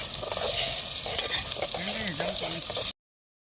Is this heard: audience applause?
no